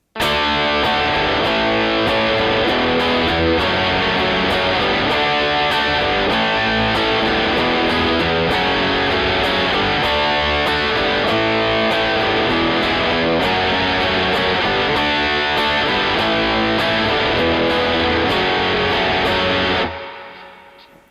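Distorted electric guitar strumming a song's chorus, a full driving chord progression of steady down strums that plays loud and continuous before cutting off near the end.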